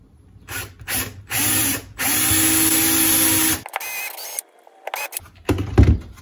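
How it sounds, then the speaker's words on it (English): A power drill starts and stops in several bursts, whirring and grinding through a PVC sign in one long steady run, followed by scraping and clattering handling noises. "we're gonna drill a hole right here in the corner"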